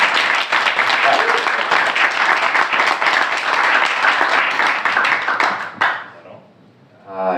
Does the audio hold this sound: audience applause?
yes